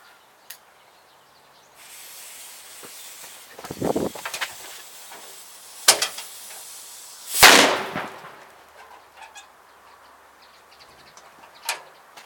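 Several sharp bangs of FP3 firecrackers, the loudest near the middle followed by a lingering hiss, with smaller pops scattered before and after.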